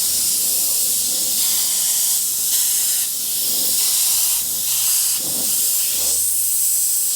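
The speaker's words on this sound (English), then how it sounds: "So you get both with this trigger airbrush / mini spray gun." An Iwata trigger airbrush mini spray gun at about 30 psi hisses steadily in loud sustained bursts, the airy spray rising and dipping with short breaks between passes.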